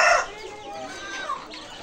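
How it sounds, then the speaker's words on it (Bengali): Native hill desi rooster crowing with hens clucking close by on a poultry farm, a loud call at the start followed by softer overlapping clucks. "এই যে পাহাড়ি মোরগ মাশাআল্লাহ"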